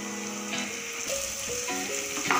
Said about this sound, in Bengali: এরপর আমি দিয়ে দেবো ম্যাশ করা আলুটা।